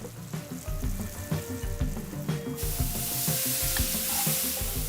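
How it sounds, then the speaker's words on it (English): Steady, loud sizzling of onions frying in olive oil, with occasional stirring scrapes and a bright hiss that swells partway through. "Now add a little bit of olive oil and get the sizzle going."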